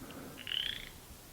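A single short frog croak from a large frog near a spring on a Utah mountain, a faint, distant, rattling call heard once over quiet outdoor background.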